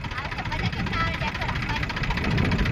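A tractor engine idles steadily in a cotton field, a low continuous rumble with faint vibration running throughout, close by, while people talk over it.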